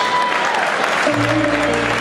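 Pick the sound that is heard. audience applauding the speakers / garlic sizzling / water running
audience applauding the speakers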